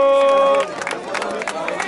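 A crowd at a freestyle rap battle tournament final breaks into applause and cheering right after a held synth tone cuts off. The clapping is dense and close, mixed with hubbub.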